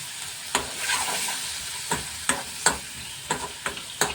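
Tomato being stirred into frying spices in a pan, a soft steady sizzle broken by several sharp scraping stir strokes at irregular intervals, close and fairly quiet.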